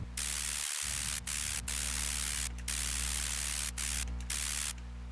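Dense hissing noise layer of a Phase Plant synth bass with a low humming drone underneath, chopped by brief rhythmic gaps, steady and fairly loud throughout.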